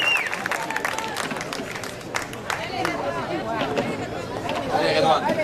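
An audience at a French-language game show clapping and cheering after a performance, a busy crowd swell of applause and chatter with a host's voice running over it.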